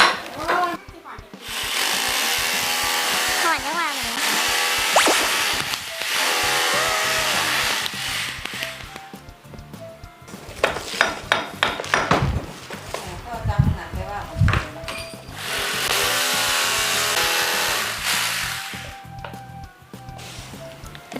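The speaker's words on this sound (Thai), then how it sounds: "คือสว่านเจาะไม้ค่ะ" An electric wood drill whines and buzzes loudly in sustained bursts, pausing between runs, with some talking mixed in, during home renovation.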